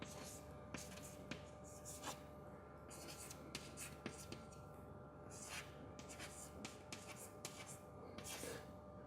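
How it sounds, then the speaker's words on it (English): Marker or chalk writing on a board during an engineering lecture on strain, heard as faint, repeated scratchy strokes over a steady room hum. "I am just writing only these components."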